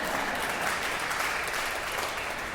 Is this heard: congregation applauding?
yes